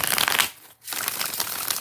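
Tarot cards being shuffled in a live reading session, a dense papery riffling that pauses briefly in the middle before resuming, close and alone.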